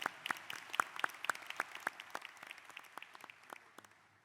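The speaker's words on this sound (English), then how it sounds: "Now, applause." Audience applause at a university presidential inauguration ceremony, a moderate scatter of distinct hand claps that is fairly close at first and then thins and fades toward the end.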